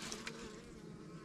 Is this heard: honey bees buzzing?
yes